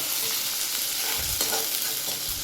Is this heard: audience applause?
no